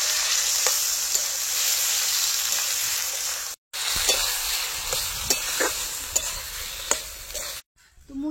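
Ground banana flower paste, seasoned with salt and turmeric, fries steadily in hot oil with a constant broadband sizzle, punctuated by sharp scraping knocks of a spatula stirring it, two brief silent gaps interrupting.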